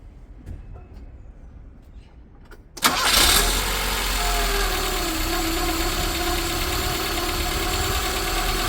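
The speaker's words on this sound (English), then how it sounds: "Let's turn the engine on." A Nissan S-Cargo engine cranks briefly and then catches, settling into a steady, fairly low-revving idle close by after a few quiet seconds.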